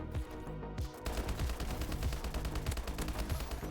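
Automatic fire from an unattachmented STG assault rifle in Call of Duty, a rapid continuous stream of close, loud gunshots in steady rhythm after a brief pause.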